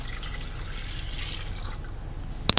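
Water pours steadily into a pot to make kataifi syrup, a continuous close splashing stream that ends with a few sharp drips, with no talk.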